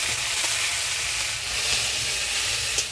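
Ground spice and onion paste with coriander, cumin, ginger and chilli frying in a pan in a village kitchen, giving a continuous close hissing sizzle that stays even and unbroken with no talking.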